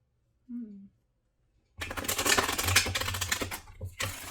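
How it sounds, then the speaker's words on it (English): A deck of tarot cards is shuffled up close, giving a dense, crisp burst of rapid riffling and flapping for about two seconds. A brief vocal sound comes just before it. "I'm going to do one more shuffle."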